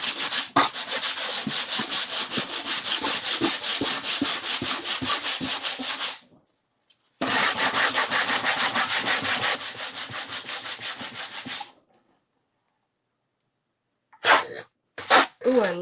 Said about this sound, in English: this is basically adding scratches